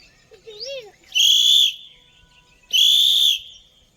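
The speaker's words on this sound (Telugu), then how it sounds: "పిలుగుట్రా, విజిల్ కొట్టరా" A person whistles at a zoo: a short wavering whistle, then two loud, sharp, shrill blasts about a second apart, close by.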